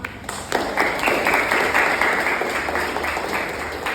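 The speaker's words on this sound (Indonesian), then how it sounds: "Beri aplaus untuk kita semua." An audience in a school guidance session bursts into applause, with dense, continuous clapping that starts after a brief pause and holds steady for several seconds before thinning slightly.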